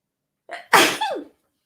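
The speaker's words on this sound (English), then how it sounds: "which now I feel like I'm going to sneeze." A single close, sharp human sneeze: a brief breathy intake followed by an explosive burst and a short trailing voiced tail, with silence before and after.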